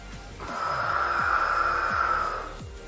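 A single long, audible inhale during a Pilates exercise, close and breathy, drawn in for about two seconds over faint background music.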